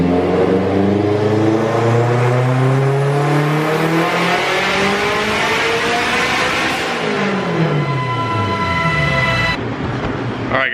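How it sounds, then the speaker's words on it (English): A turbocharged Honda K24 engine in an Integra, running about 15.5 psi of boost on a dyno, revs hard and loud throughout, with pitch climbing steadily through the gears, a brief drop near the middle, then rising again before cutting off near the end. "I'm just going to, you know, do it for a number on the dyno"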